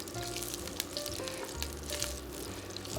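Garlic frying in a pan for a pasta and broccoli soup, a steady close sizzle with soft crackles and occasional stirring clicks throughout, no talking.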